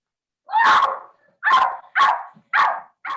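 A dog barking sound effect in a toy theater show: five sharp, loud barks in an uneven rhythm, close and clear, with short silences between them.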